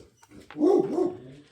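A dog in the background gives one short, fairly clear bark-like yelp that fades out quickly.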